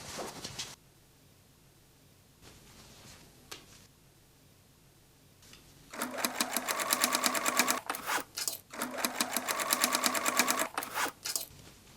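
A sewing machine stitches the upper edge of a fabric hobo bag, with its lining fitted inside. A few soft handling sounds come first, then a steady, close run of rapid stitching with a short pause partway through.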